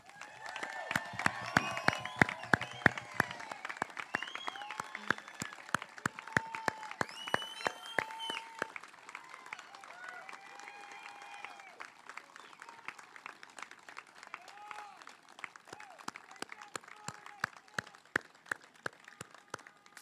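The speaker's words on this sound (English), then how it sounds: "Can we please give them all a round of applause?" A graduation audience at a high school commencement applauds its graduates, with sustained clapping and scattered cheers from a large crowd that gradually thins out.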